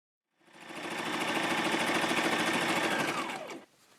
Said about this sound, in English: I'm just going to do straight stitch now.